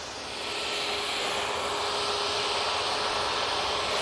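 A Ryanair airliner rolls for takeoff at Manchester Airport, its jet engines building to a loud, steady, hissing roar that stays constant throughout.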